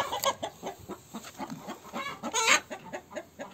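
Chickens clucking in a steady run of short, close calls, several birds overlapping with a brief louder squawk in the middle.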